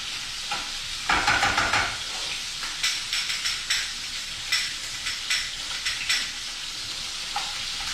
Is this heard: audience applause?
no